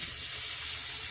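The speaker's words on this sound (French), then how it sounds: "je mets de l'eau dans ma casserole" Water running steadily from a tap into a saucepan, a continuous hissing splash with no talking.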